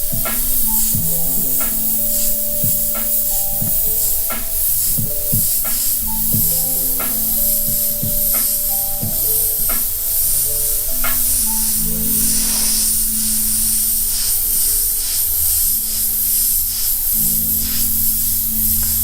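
An airbrush spraying paint onto a T-shirt gives a steady close hiss throughout, under tonal background music with a clear melodic line and no speech.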